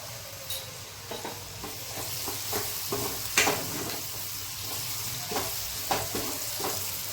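Turmeric, Kashmiri chilli powder and salt sautéing in a pan for a Kathiyawadi brinjal oro, with a steady sizzle and hiss broken by regular scraping stirs and spoon clicks against the pan, close up, no talking.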